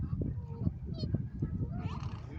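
Swans on the lake in Kensington Gardens, London, giving honking calls over a busy outdoor background, moderately close, with a few brief higher squeaks mixed in.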